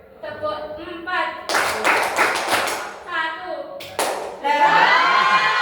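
A class of young pupils claps in a rhythmic clapping game, a rapid run of several sharp group claps, then a lone clap, set between a teacher's voice and children chattering in a lively classroom.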